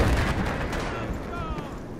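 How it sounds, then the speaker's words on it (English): Grenade explosions and gunfire in a close-quarters Battlefield 4 match on the Zavod 311 map, a dense barrage of muffled blasts and shots rolling continuously with no clear pauses. "Throwing up grenades."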